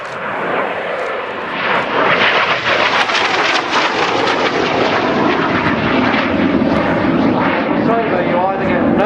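Cockpit roar of an F-86 Sabre jet flying solo over Old Warden: a loud, continuous, dense rushing drone that stays steady throughout, close and enveloping.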